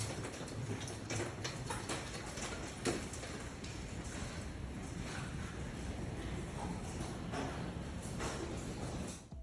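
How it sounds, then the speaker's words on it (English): Golf ball-sized hail from a severe Texas thunderstorm pours down in a dense, steady hiss and patter, with scattered sharper impacts throughout and no voices. "Nope, it's hail"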